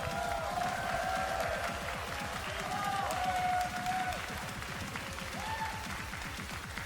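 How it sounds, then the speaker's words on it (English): Applause and cheering from the crowd at a COE 2023 1v1 esports final, a dense continuous roar of clapping that holds steady throughout, with voices mixed in. "Round of applause."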